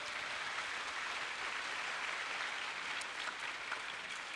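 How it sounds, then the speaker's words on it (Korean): An audience at a summer church camp Q&A applauds loudly and steadily for several seconds, a thick, even patter of many hands with no voices over it. "찬양 때보다 더 큰 박수가 나왔는데"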